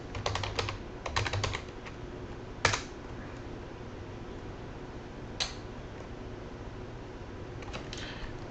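Someone types a short print command on a computer keyboard, giving quick bursts of close key clicks, a few louder single keystrokes and long pauses over a faint steady fan hum.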